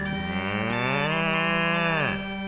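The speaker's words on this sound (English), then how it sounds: "That cow certainly got an ear for music, eh?" A cow lets out a single long, deep moo close by, a sustained lowing call that bends downward in pitch near the end, heard alone without talk.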